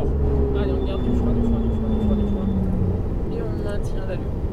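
A Ferrari 488 GTB on a race circuit pulls hard under throttle, its loud engine drone climbing steadily in pitch, while an instructor talks over it from inside the car.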